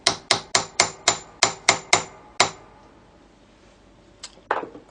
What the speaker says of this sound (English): you can just give them a bit of a tap with a hammer